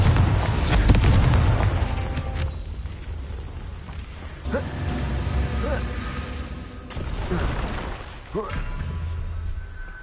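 Confringo explosive spell blasts in Hogwarts Legacy, several heavy booming impacts with crackling debris spaced a few seconds apart, loud and close, with a voice shouting over the action.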